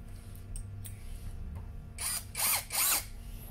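A Toyoko cordless drill driving a long screw, several short whirring bursts that rise and fall in pitch, close and fairly loud, after a quiet stretch of low background hum.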